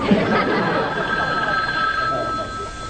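A telephone bell rings in a home in a 1950s sitcom, a steady electric ring running through the whole stretch, fairly loud, with faint room chatter beneath it.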